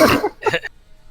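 A person sneezes during a tabletop role-playing game session: one sharp, close burst followed by a quicker second one, then quiet.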